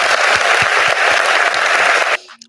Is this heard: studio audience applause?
yes